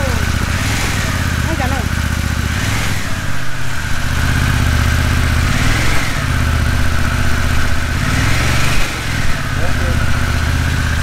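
A Harley-Davidson Pan America adventure motorcycle with a Revolution Max engine idles close by, a steady low rumble with loud harmonic layers and slight lumpy pulsing throughout, holding an even level from start to finish.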